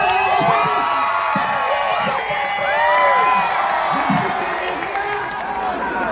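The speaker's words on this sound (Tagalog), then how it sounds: "Magpalakpakan na kasamang sigawan." Live comedy show audience clapping and shouting together: loud, continuous crowd noise with dense applause, cheers and whoops sustained throughout, close and enveloping.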